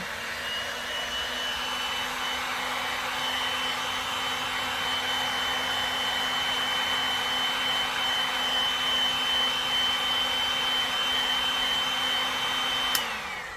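A heat gun blowing to dry paint on a reborn doll gives a steady, loud, whooshing drone with a faint high whine that holds for over twelve seconds and then shuts off abruptly near the end, with no talking.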